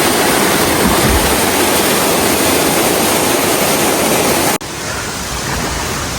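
A forest waterfall near Thiruvananthapuram in Kerala roars close by in a loud, dense, unbroken rush of falling water, with a brief dip near the end.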